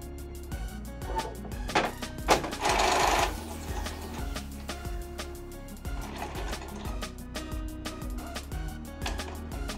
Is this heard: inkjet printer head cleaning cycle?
yes